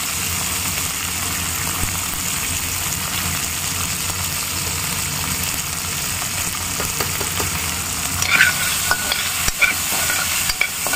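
Poha fries in a pan with a steady loud sizzle, while a spatula stirs and scrapes repeatedly against the metal, continuous and close, with a few sharper clinks near the end.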